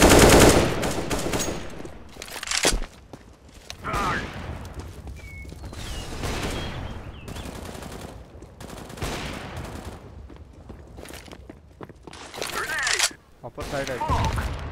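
Gunfire rattles in the video game Counter-Strike: Global Offensive, with rapid automatic bursts and sharp single shots scattered through the clip while a player talks over the action.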